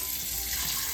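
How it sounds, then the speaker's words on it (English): Tap water rushing steadily into a bowl, a continuous bright hiss and splash close by, filling without pause and with no voices. "first you need to fill up your bowl with water"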